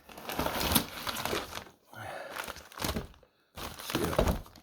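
Bubble wrap crinkles and rustles up close while a re-sealed Intellivision box is unpacked, dense crackling in bursts with brief pauses between.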